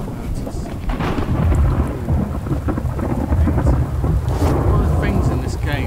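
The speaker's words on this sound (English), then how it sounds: "One of the things in this game, it thunders all the time." Thunder rumbles through heavy rain in a video game storm, a loud, continuous rolling roar with rain pattering on surfaces, and no voices are heard.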